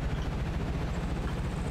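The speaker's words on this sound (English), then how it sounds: "You suck at evading helicopters." Helicopter in GTA roleplay gameplay, a steady rapid low rotor thump pulsing continuously and fairly loud, with no speech over it.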